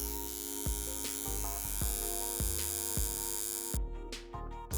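A tattoo machine with a straight 9 lockdown needle runs constantly, a close steady electric buzz that drops and pulses with brief interruptions, no talking.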